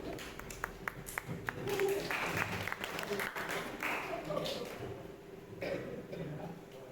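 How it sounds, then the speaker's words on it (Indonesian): Classmates in a classroom applaud, starting with a few scattered claps, then swelling into fuller clapping that fades toward the end, with faint voices mixed in. "Bisa tepuk tangan teman-temannya."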